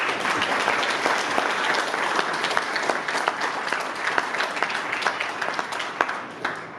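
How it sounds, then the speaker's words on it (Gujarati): An audience at a trust donation ceremony applauds a donor, many hands clapping in a sustained, crowded patter that thins into scattered claps near the end. "આપણે સૌ એક સાથે તાળીઓ પાડીને એમને વધાવી લઈએ"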